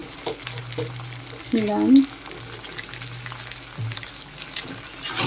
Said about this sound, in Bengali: এবার এটা ভালো করে কষিয়ে নেওয়া।